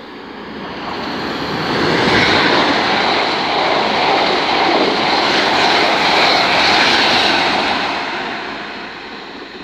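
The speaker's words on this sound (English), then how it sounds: "So a train coming in now does not stop here" A non-stopping Norwich to London Liverpool Street train rushes through Stowmarket station at speed, a loud broad roar building, holding steady, then easing away.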